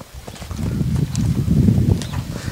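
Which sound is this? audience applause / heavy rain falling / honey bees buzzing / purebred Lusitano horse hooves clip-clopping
purebred Lusitano horse hooves clip-clopping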